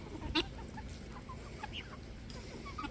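Backyard chickens clucking nearby, with soft, scattered clucks and short calls over a steady outdoor background and no talking.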